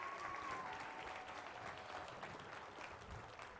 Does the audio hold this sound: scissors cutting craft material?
no